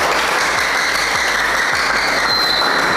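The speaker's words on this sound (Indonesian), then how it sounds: "Tepuk tangan buat Mas Indra" Steady applause from a group fills the whole stretch, dense and continuous, with no voices over it.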